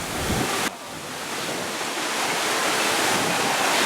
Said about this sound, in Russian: Просто идет ветер.